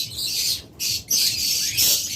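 Pet bird squawking inside a breeding box, a female settled in to lay: a few loud, harsh, shrill squawks in bursts close by, with short gaps between calls.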